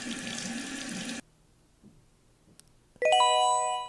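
Water pours briefly from a video game cloud as it fills, a short rushing gush that cuts off, followed after a quiet pause by a bright chiming jingle.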